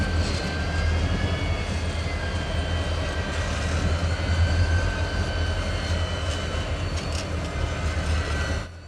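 Railroad switcher locomotives working in Avon Yard west of Indianapolis, a steady low diesel rumble with faint squealing tones running throughout, fairly loud and continuous, no talking.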